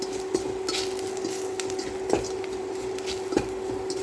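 Spices are stirred into a pot of crab and cauliflower soup, with soft scraping and clinking of a utensil against the pot over a steady background hum and a faint sizzle, plus a few sharper knocks.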